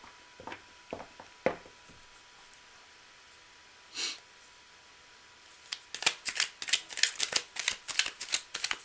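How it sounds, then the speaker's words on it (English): A tarot deck is riffled and shuffled close by in quick crisp bursts, with a few scattered flicks early on and a dense run of rapid shuffling toward the end. "cards are shuffled in advance, but I go again personally in front of you live so that you're a witness"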